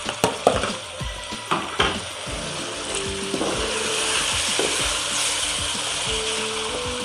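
Tomatoes and green chillies dropped into a hot pan for aloo chicken: a few sharp clatters at first, then a continuous close sizzle with a faint scrape or two, no voices.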